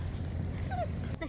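Small puppies in a litter give a faint high whimper and a short yip over steady low background rumble, with one brief cry near the end.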